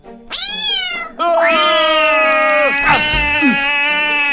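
Two loud, close cartoon cat meows from an animated show: a short one, then a long whining call that bends and wavers before fading out.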